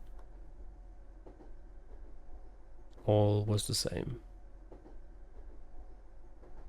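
A train keeps running in the video game Raging Loop, heard as a steady, low rumble with faint clatter throughout, under a brief spoken line.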